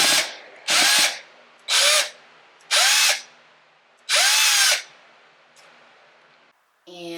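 A cordless power drill backs a screw out of an apartment wall, with five loud whirring bursts of about a second each separated by short pauses, close up.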